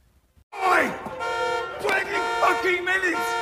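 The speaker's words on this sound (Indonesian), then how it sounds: "suara alarm mobil yang terus berbunyi" A car alarm blares with repeating electronic tones that swoop and pulse, loud and close, after a short quiet start.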